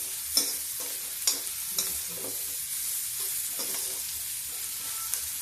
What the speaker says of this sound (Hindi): देखिए मेरा लहसुन प्याज सब भून गया है और हींग भी भून गई है।